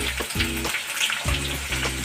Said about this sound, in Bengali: আলুগুলো ভাজা ভাজা হবে, একটু ভাজা হয়ে গেছে। এবার আমি পেঁয়াজ দেব